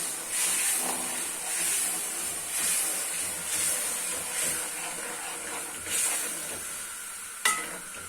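Egg gravy stirred in a pan just after water is added: a steady close sizzle with soft rhythmic scraping strokes roughly every second, ending in one sharper knock.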